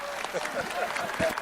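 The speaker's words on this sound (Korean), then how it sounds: "박수까지 들리죠." Audience applause and laughter break out during an interview with a film director and his interpreter, a steady broadband patter of clapping spread across the moment with voices mixed in.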